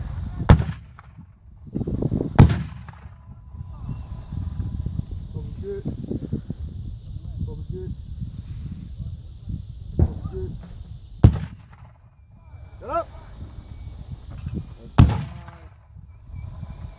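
Artillery guns firing on a range, several heavy booming reports spread irregularly across the stretch, some near and loud, others duller, with voices shouting and talking between the blasts.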